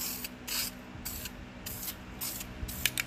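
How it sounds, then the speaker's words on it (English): White paint sprayed onto a wheel in short repeated hissing bursts from a spray can or gun, close and fairly quiet, with a brief pause between each pass. "Should have equal distance spray pattern all the way around"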